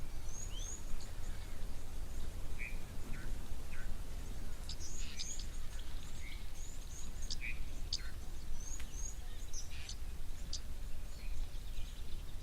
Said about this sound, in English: You can hear the chirps of the oxpeckers now as well, the red-billed oxpeckers.